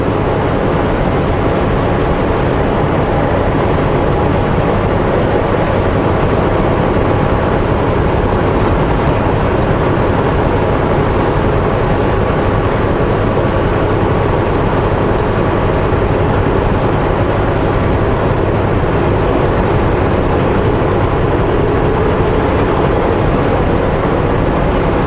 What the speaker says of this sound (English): Now those trains boogie pretty darn fast